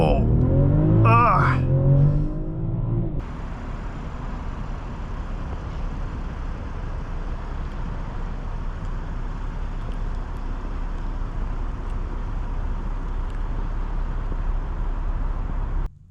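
A 2024 BMW M440i xDrive Gran Coupe accelerates hard from inside the cabin, a steady loud engine and road roar building after a short burst of voice at the start.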